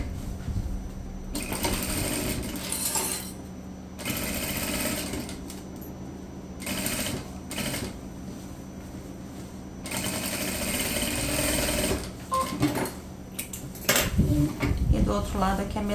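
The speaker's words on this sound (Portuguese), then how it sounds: "E aqui a gente passa uma costura reta." Sewing machine stitching a straight seam on a fabric eco bag with a divider, bursts of rapid mechanical whirring that start and stop several times, close and fairly loud over low room hum.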